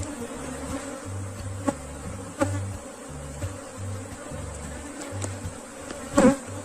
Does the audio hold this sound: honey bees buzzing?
yes